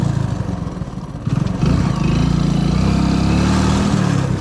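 A motorcycle engine rumbling while riding, a loud, close drone that steadies and rises after a brief dip, with no talking.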